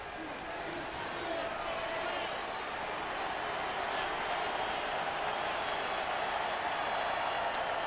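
Roar of a large stadium crowd at a 2007 Vanderbilt versus Tennessee college football game, a dense, steady wash of distant cheering that builds slightly, heard beneath continuous play-by-play commentary.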